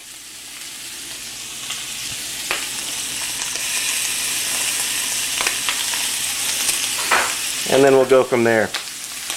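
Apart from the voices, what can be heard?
jumbo prawns frying in a pan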